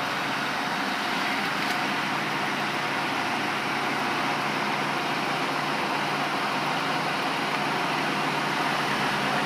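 A 2003 Ford Crown Victoria Police Interceptor pulling forward, a steady broadband engine and road hum that stays even and moderately loud throughout with no distinct revving.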